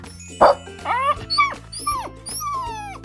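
Dog giving a short burst of whimpering, whining yelps under steady low hum, with a faint jingle; stressed vocalising rather than full barks, close and moderately loud.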